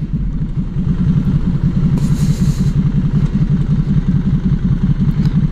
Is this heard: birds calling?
no